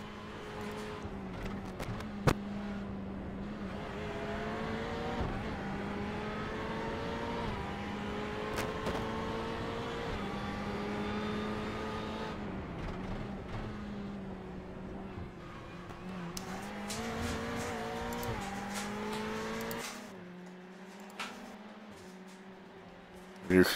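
Onboard race car engine in the iRacing sim, the leader's car holding a loud continuous drone that rises and falls through gear shifts and acceleration, with a commentator talking over it.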